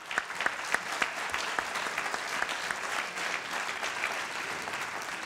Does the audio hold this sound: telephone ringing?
no